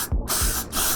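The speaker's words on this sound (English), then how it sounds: "And I like to mix my foam wrap with the Got2b spray." Got2b hair spray hisses out of an aerosol can in two quick close bursts, each a short sharp spray with a brief pause between them.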